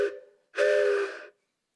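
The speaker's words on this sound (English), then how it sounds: "I got a heftier a train whistle here" A hand-blown train whistle gives a short first tone, a brief pause, then a longer, louder steady blast, close up and heard alone.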